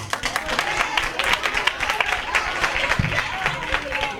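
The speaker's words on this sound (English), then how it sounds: "Clap your hands if you believe you should have what you say" A Bible study audience breaks into scattered hand clapping and crowd noise, loud and close, while a voice keeps talking over it.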